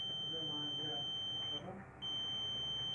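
A multimeter's continuity buzzer sounds a steady high-pitched tone while probing the speaker of a Redmi Note 4 phone with a ringer fault, briefly dropping out before resuming, over a faint low background hum.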